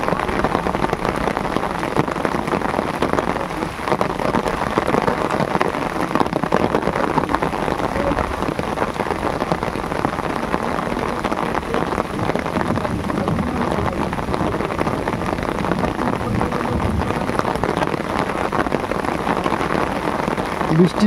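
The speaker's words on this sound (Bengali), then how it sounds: "বৃষ্টি পড়ছে, দেখতে পাচ্ছেন।" Steady rain pours over the Sundarban river during castnet prawn fishing, a dense unbroken hiss that stays loud and even throughout. Faint voices may sit under the downpour.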